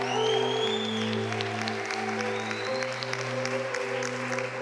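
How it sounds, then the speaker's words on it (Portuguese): Church congregation applauding together, a steady wash of clapping held under sustained music tones throughout. "aplauda ao Senhor"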